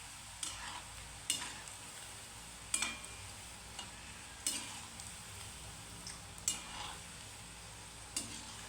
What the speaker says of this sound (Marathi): मस्त असे आपण लो गॅसवर आता तळून घेऊयात